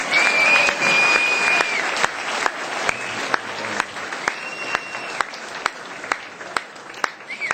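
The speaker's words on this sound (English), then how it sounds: "Another round of applause for a true patriot of Palestine and the United States, America, Congressman Dennis Kucinich." Audience applause after a speech honoring a congressman, a steady wash of many hands clapping, loudest at the start and easing slightly while continuing throughout, with faint voices and whistles mixed in.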